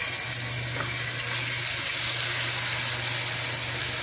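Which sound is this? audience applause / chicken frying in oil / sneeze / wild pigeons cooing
chicken frying in oil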